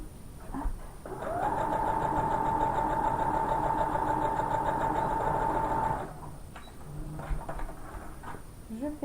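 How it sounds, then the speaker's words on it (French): A sewing machine runs a straight stitch on fabric for about five seconds, a steady motor whir with fine rapid needle ticking, fairly close and loud, with quieter handling noises before and after. "je couds au point droit"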